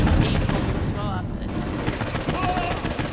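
Continuous rapid gunfire in Saints Row 4, a dense, steady rattle of shots lasting throughout with a voice talking over it.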